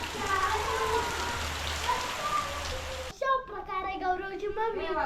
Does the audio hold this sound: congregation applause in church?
no